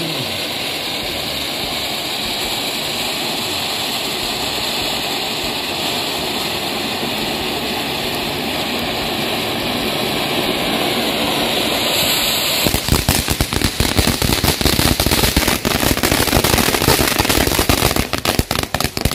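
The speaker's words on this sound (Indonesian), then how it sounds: "selanjutnya kita coba mercon air mancur yang jumbo" A large fountain firecracker set off for Eid al-Adha sprays a loud continuous hissing roar, steady for about twelve seconds, then turns into rapid crackling bursts and sputters until the end.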